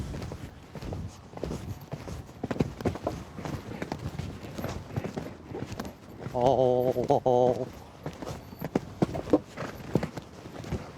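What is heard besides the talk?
horse hooves during show jumping exercise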